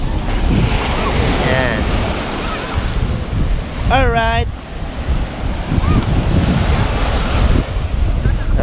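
Ocean waves rush and wind buffets the microphone in a steady roar, with a voice speaking briefly over it.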